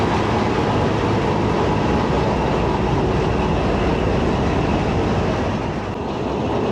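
The 125UP Lasani Express runs on the rails between Lahore and Baddomalhi, a steady, loud, dense rumble of wheels and carriage noise heard from inside, continuous and unbroken.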